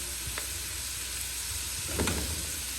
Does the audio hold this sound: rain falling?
no